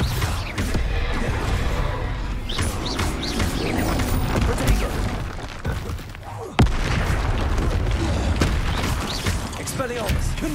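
Spells such as Confringo and Bombarda cast in combat in the Hogwarts Legacy video game, producing a dense, continuous barrage of booms, crashes and impacts, with a sharp hit near the middle and speech running throughout.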